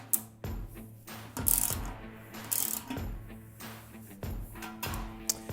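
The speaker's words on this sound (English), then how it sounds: "So to tighten these, I have a simple socket." A socket ratchet tightening the posts on a Cornelius keg, with sharp metallic ratcheting clicks in short repeated bursts, close and clear.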